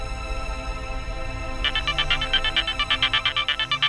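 A mobile phone ringtone starts up over soft background music, a bright repeating electronic pattern pulsing steadily and fairly loud.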